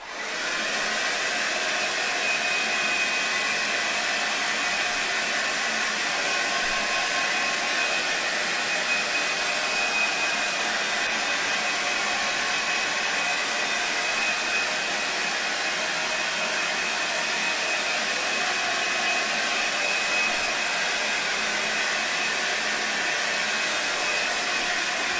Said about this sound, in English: let's get you with the blow dryer